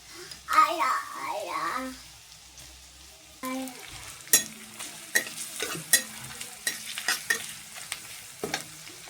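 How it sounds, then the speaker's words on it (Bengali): Fried onions with chopped green chillies sizzle in a pan while a utensil scrapes and knocks in repeated sharp strokes. A voice is heard briefly near the start. "এখানে আমার পেঁয়াজ ভাজা হয়ে গেছে, আমি এবার লঙ্কা কুচিগুলো দিয়ে নেবো।"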